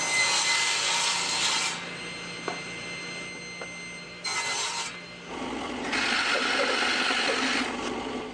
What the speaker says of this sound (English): so I'll cut away most of it with the table saw.